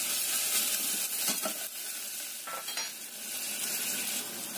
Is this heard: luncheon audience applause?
no